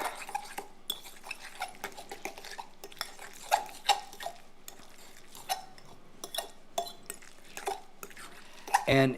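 A spoon stirs a crab and egg mixture in a bowl, giving a steady run of light clinks and taps against the dish at an even, unhurried rhythm, close and fairly quiet.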